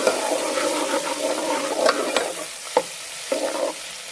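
Garlic ginger paste goes into onions frying in a pan, bringing a steady close sizzle with a few scraping stirs and soft clicks of a spoon.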